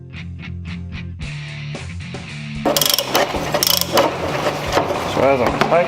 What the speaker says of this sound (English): So as I'm tightening, you can see the punch cutting up into the metal.